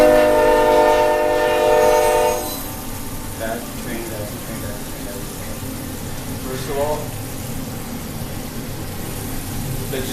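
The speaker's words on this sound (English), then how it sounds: "that's the train." A train horn blares for a couple of seconds, then the rumble and clatter of rail cars rolling past continues at close range.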